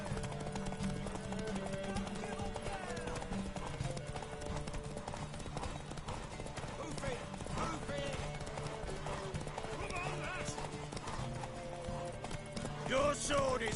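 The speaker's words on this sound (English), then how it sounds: "Come on, horse. I know you can go faster than this." Galloping horse hooves in The Witcher 3 on Deathmarch difficulty, a steady clip-clop beat under a continuous bed of game music, with a rider's voice speaking over it.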